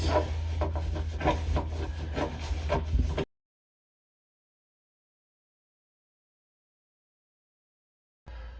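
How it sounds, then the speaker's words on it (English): A wrench scrapes and rubs steadily as it tightens the mounting nut under a Delta single-handle kitchen faucet, close up, for about three seconds before silence, with a brief return at the very end. "And then tighten up the nut as tight as you can get it."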